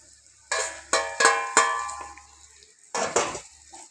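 A utensil scrapes and clanks against a pot as chicken is stirred into thick masala: about six sharp, close metallic knocks in two bursts, with quiet gaps between them.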